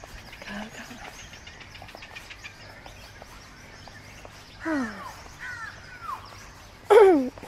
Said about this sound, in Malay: dengar tak bunyi burung. Burung gagak.